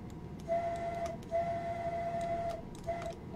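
A steam-style train whistle in the Train Sim World 2 simulator on the East Coast route, sounding three times as steady tones, a long blast between two shorter ones, over a rumbling cab background.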